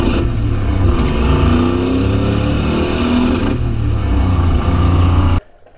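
A turbocharged LS-swapped Chevelle accelerates hard on only 3 psi of boost, tuned with conservative timing and running rich on pump 93. The engine roars loud and close, its note climbing steadily before cutting off abruptly at the end.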